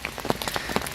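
Rain patters onto the surface at a lake during a carp fishing session, a steady hiss of drops with scattered sharper taps, fairly close and without any voices.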